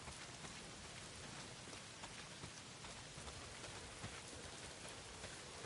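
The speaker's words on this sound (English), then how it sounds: "Well, not if it's pissing down rain." Heavy rain falls steadily in a video game scene, a dense, even hiss of drops with no breaks, soft in level and with no voices over it.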